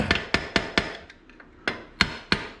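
A Power Wheels Gator part being tapped by hand, about nine sharp, close knocks in an uneven rhythm, with a short quiet gap partway through.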